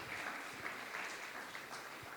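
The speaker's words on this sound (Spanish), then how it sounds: "Querida iglesia, dale un fuerte aplauso al Espíritu Santo." A church congregation applauds together, a steady wash of clapping from many hands filling the room evenly throughout.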